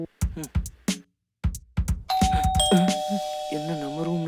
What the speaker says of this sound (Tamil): காலிங் பெல் அடிக்குது, திறக்கிறானா பாரு.